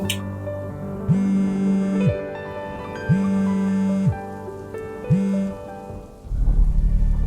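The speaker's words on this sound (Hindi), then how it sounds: "वो बस बारिश रुकने वाली है" Steady rain hisses in the background beneath a sustained humming tone that swells three times, then a louder rush of rain near the end.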